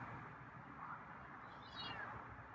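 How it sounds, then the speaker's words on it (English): A feral cat meows faintly a couple of times against a low background hum, the cries soft and somewhat distant. "that was a louder meow"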